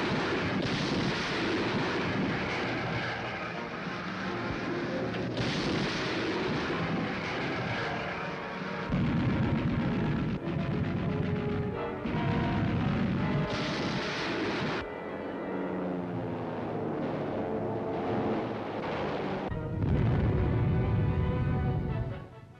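Heavy, sustained roaring rumble from battleships and their escorts firing naval guns to bombard enemy shore defenses at Iwo Jima in 1945, a dense, continuous, loud barrage with repeated surges and no voices.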